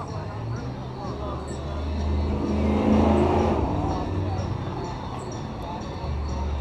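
A Ford Bronco rolls past at a car meet, its engine rising to a broad rumble around the middle and then fading, with people's chatter over the steady background.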